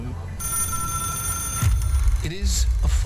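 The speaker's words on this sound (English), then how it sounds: "There goes the telephone again." A shrill, steady ringing from a telephone in the video game Control sounds over low ambient rumble, then drops under heavier game noise as a voice speaks.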